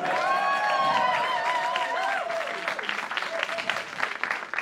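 A comedy show audience breaks into applause and cheering, loud at first and then thinning into scattered claps, with a voice briefly calling out over the crowd.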